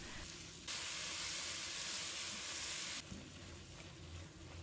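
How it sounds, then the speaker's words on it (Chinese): White beech mushrooms are stir-fried with luffa in a hot wok, giving a steady close hiss and sizzle that swells louder for a few seconds, then settles back to a softer crackle with scraping stirs. "再把白玉菇给倒进来，继续把它翻炒均匀，炒至断生"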